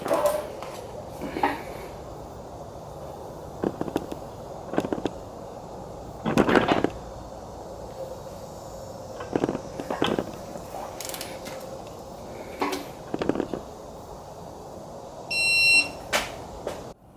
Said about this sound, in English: Every single head bolt in here is now torqued.